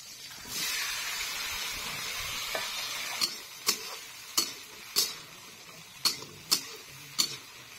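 Tomato and onion hitting a hot pan, a broad hiss of frying followed by a series of sharp spoon taps and stirring knocks at an uneven rhythm, close and alone.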